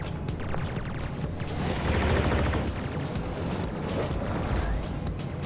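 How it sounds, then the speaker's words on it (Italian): Rapid gunfire from a shooter game made in Dreams on PS4, with dense bursts and booms that continue for several seconds over a steady loud mix of game sound. "lo sparo segue un po' i nemici"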